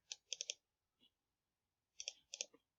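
Several sharp computer mouse clicks in quick pairs, loud and close in a quiet room, with two double-click bursts separated by a pause and one faint click between.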